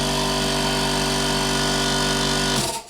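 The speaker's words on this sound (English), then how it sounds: "It's an old style compressor. It's super loud, and I think it's going to blow up at some point soon." An old-style air compressor runs steadily at close range, a harsh, dense mechanical drone that stays constant and very loud before abruptly winding down at the end.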